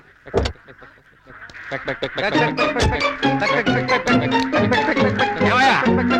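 Ducks crossing a road quack in a busy, overlapping chorus that grows louder and denser, with voices talking over the flock near the start.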